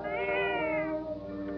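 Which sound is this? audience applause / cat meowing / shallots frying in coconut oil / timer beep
cat meowing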